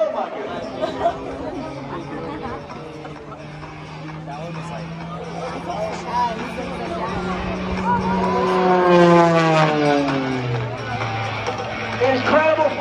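An aerobatic aircraft pulls up at 4 G and climbs at the Pocono Raceway airshow, its engine tone rising into a sweeping whine that swells in the middle and stays loud, heard over steady crowd chatter and an announcer talking.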